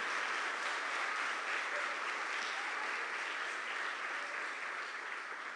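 Church congregation applauding, a steady, dense wash of many hands clapping together, even and sustained throughout with no pauses or talk.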